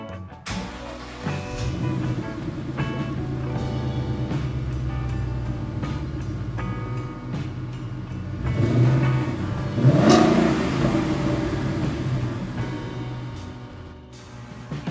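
A Ford Mustang with its stock exhaust revs to about 3,000 RPM while warm, a deep, steady rumble swelling louder around the middle before settling back to idle.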